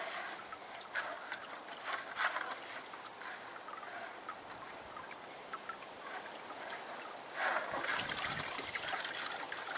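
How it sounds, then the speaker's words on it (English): Water from a hose sprays and trickles steadily over a sluice unit outdoors, a continuous hissing wash with small splashes and knocks that swells louder near the end. "We'll just carefully wash this off."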